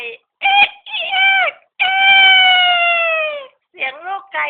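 A voice imitates a hen, with short clucking calls and one long drawn-out cackle, loud and close, separated by brief pauses.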